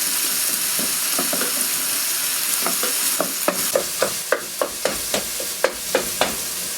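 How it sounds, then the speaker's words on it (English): Cream cheese and cheddar melt into a dip as a spoon stirs the pan steadily, each sticky scrape tapping out an even rhythm over a faint sizzle, close up. "Basically, you want to keep stirring this pretty constantly."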